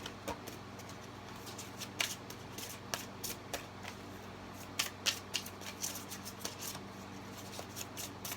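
Tarot cards are shuffled close by in soft riffling bursts and quick taps, several separate shuffles spread across the stretch over a faint steady hum, with no talking.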